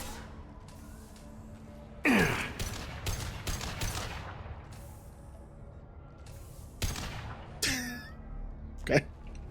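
Gunfire in the Mass Effect video game, with a sudden dense burst of rapid shots followed by scattered single cracks and a final sharp blast, with breathy vocal sounds mixed in between.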